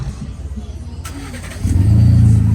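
A Ford F-150 pickup truck with aftermarket exhaust cranks for a moment, then fires up into a loud, deep, rumbling idle right next to the listener.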